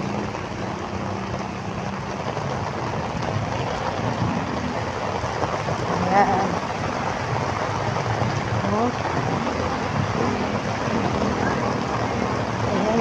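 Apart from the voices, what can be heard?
heavy rain and wind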